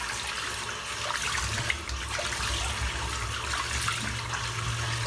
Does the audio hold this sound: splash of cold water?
yes